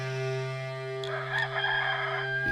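A rooster crows once, fairly close, its call standing out above a steady low hum and tonal background, with no talk over it.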